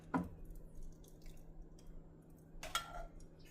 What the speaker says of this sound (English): And then you just spoon them gently into.